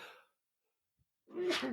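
A single sharp human sneeze bursts out close by after a short breath, then quiet, during a relaxed podcast conversation.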